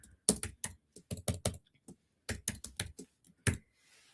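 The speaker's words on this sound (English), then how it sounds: "I'm going to type it in right now." Bursts of keystrokes on a computer keyboard, quick clustered taps in a few short runs with brief pauses between them, close and clear in a quiet room.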